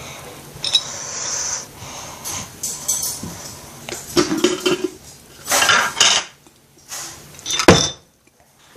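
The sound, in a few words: opening a surprise egg toy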